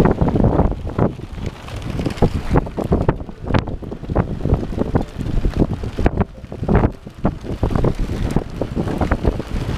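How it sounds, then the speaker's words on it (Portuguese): Strong gusts buffet the microphone in irregular, roaring bursts, loud and close, with no voices, at an outdoor campsite beside a parked motorcycle. "Muito vento, mano. Muito vento."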